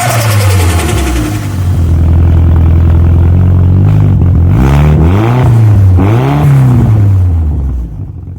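A Mk1 Skoda Octavia vRS engine revs up repeatedly, rising and falling in pitch with a whistly turbo whine, loud and close, with no speech.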